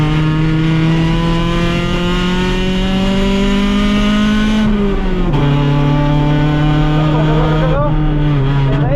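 A 1992 Honda Civic DX EG hatchback with a swapped H22A engine pulls hard on a racetrack. Its loud, steady engine note climbs, dips sharply at a gear change midway, then keeps climbing up close.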